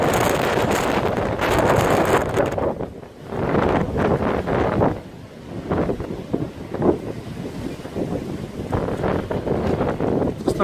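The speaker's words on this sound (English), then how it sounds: "The wind had settled down, but it seems to have picked right back up again. It's a serious gust now." Strong, sustained wind gusts from Hurricane Ophelia in Ireland at midnight roar and buffet the microphone almost continuously, with brief lulls before surging back loud and close.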